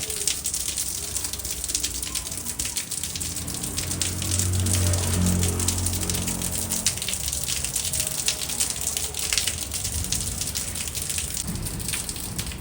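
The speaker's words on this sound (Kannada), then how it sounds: "ಜೋರಾಗಿ ಮಳೆ ಬರ್ತಿದೆ." Heavy monsoon rain pours down at a Kerala bus stand while travellers wait for an auto-rickshaw, a dense steady hiss of drops drumming on surfaces throughout, with a low engine rumble swelling briefly in the middle.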